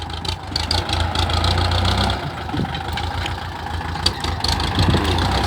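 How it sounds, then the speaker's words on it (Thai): A tractor engine idles on a cassava planting farm with a steady, low, rumbling drone. The engine is close and fairly loud throughout, with faint activity around it. "มีรถไถครับ"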